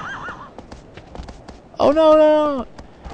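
A horse in the video game Shadow of the Colossus lets out a loud, drawn-out whinny midway through, after faint hoof steps, while someone talks over the start.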